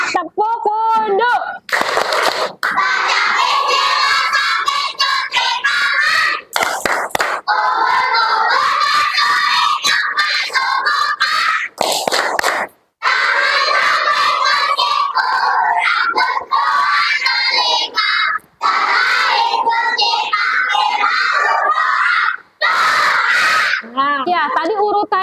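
Schoolchildren repeat the tepuk wudhu chant with more energy, a loud group of young voices shouting in unison alongside rhythmic clapping, with short gaps between phrases across the whole performance.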